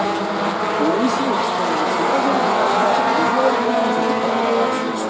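Race cars roar through turn 4 of a track, a continuous loud blend of engine noise and passing cars with occasional tire squeal, under a commentator's voice.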